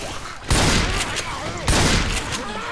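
Bursts of automatic gunfire from the zombie shooter Left 4 Dead 2, two loud sustained volleys with a brief lull between, close and dense.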